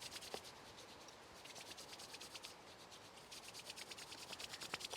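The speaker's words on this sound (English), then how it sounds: "we're going to just rub the hands together, front and back" Hands rubbed together front and back during a mindful movement exercise, a soft, steady dry friction swish in quick repeated strokes, faint and close, with no talk.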